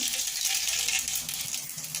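Mustard seeds drop into a frying pan and crackle in a dense, steady spatter of bright tiny pops, close and alone, while a restaurant-style paneer masala is being started.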